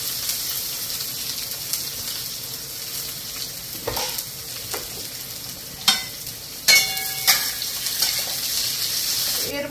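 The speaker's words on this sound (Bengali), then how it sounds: "এর মধ্যে কুচানো পেঁয়াজ দিয়ে দিলাম" Chopped onion sizzling in hot oil in a home kitchen pan, a steady bright hiss throughout with a few sharp scrapes and clinks of a spatula toward the end.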